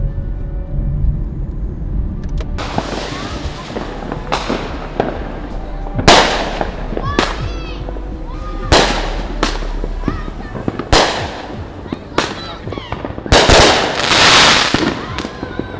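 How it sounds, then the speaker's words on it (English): July 4th fireworks burst repeatedly over a city at night, a dozen or so sharp booms and crackles with whistles, some near and loud, others farther off, while people talk in the background. "we're gonna hang out here and watch some fireworks"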